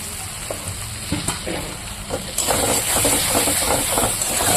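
Tomato pieces dropped into a sizzling pan of spice masala: a crackling fry with stirring scrapes that swells into a louder, brighter sizzle about halfway through, close up, with no talking.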